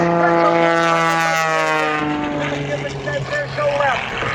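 Aerobatic propeller airplane performing at an air show in Gaylord, Michigan, its engine a loud, continuous drone with a steady pitch that shifts slightly as the plane maneuvers.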